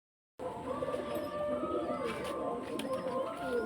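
Young pigeons for sale coo steadily in low, murmuring rolls, close by, after a brief silence at the start; background clatter and faint voices mix in.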